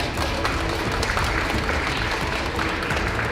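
A gallery audience at a media art exhibition in Gwangju claps loudly and continuously, a dense, even wash of applause throughout.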